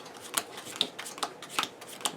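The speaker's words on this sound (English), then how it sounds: "And you can shuffle that in." Gloomhaven board game cards being shuffled by hand, a quick series of crisp riffling bursts repeating every half second or so, close and fairly quiet with no talking.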